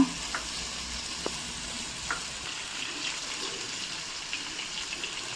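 Ginger garlic paste sizzling in hot oil for mutton fry, a steady soft crackle with occasional faint clinks of a spoon against the pan.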